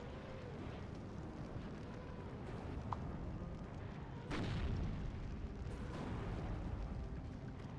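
Rocket artillery strike from Andrusha launchers in the Steel Division 2 war game, heard as a steady rumbling barrage with a heavier boom midway and continued low explosive thunder afterward.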